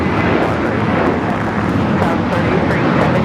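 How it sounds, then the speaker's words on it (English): Southwest Airlines Boeing 737-700 jet taking off at LAX: a loud, continuous broadband engine roar with wind-buffeted rumble, steady throughout. "That is Southwest Airlines 3317 taking off to Phoenix on the 737-700"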